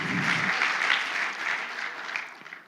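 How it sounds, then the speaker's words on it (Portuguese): A church congregation breaks into loud, dense applause, a sustained wash of clapping that holds for a few seconds and then begins to thin out toward the end. "Dê uma salva de palmas de Jesus."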